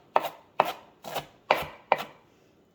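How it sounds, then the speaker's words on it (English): A knife chops a rolled-up ball of parsley on a cutting board in five evenly spaced, crisp thuds, close and clear, with no voices. "I just kind of roll that up in a ball and I chop it, and then I'll turn it over and I'll just give it a chop again."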